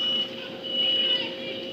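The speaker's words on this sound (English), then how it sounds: "You can hear the smoke detector in the background going off." A smoke detector shrills steadily in the background during a Houston police shooting incident, a continuous high-pitched tone under a low hum and faint voices.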